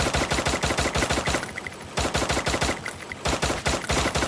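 Rapid bursts of automatic gunfire from a squad battle royale video game, loud and close, firing in repeated volleys with short pauses between them.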